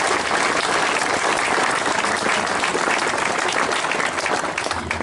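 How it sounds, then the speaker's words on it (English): Loud, dense applause from a crowd at an outdoor anti-Protocol parade rally in Castlederg, sustained steadily throughout with no break. "I'd like you to give yourselves a round of applause"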